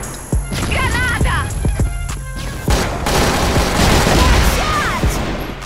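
Gunshots and a grenade blast in the online shooter CrossFire, sharp close shots early followed by a loud sustained explosion rumble, with brief game voice callouts.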